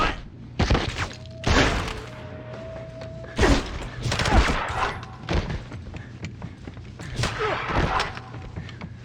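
Gunfire in the James Bond 007 Blood Stone PC game: several sharp, loud bursts of shots spaced irregularly over a steady low background hum, with a brief tonal whine between them.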